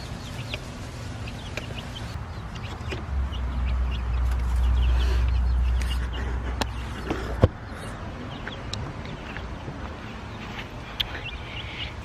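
A flock of poultry in a backyard pen clucks faintly and intermittently against a low, steady outdoor background, with one sharp knock partway through.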